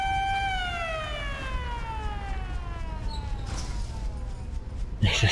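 A siren in the video game Resident Evil Revelations 2 wails in a long, slowly falling tone over steady ambient rumble, with a sharp noise at the very end.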